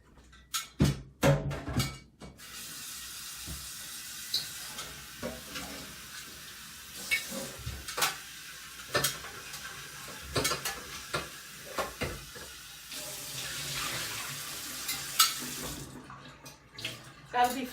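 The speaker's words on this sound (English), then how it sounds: "I'm going to give my pot a bit of a rinse" Water runs steadily into a metal pot being rinsed, with a splashy rushing wash broken by a few clanks near the start and end, close by, with no talk.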